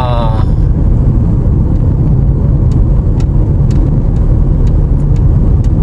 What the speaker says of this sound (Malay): Tengok dia pulas minyak tu. Pulas minyak habis.